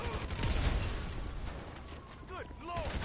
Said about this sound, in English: Why is my vehicle exploding?